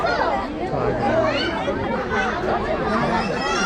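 A dense crowd of adults and children chatters loudly around the tiger enclosure at Kolkata Zoo, with many overlapping voices forming a constant, close babble.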